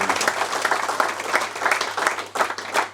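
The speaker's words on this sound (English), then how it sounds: "Please give them a round of applause because they have been immense through this." An audience at a football writing festival event applauds Jack Leslie's granddaughters, with sustained, dense clapping from a crowd filling the room throughout.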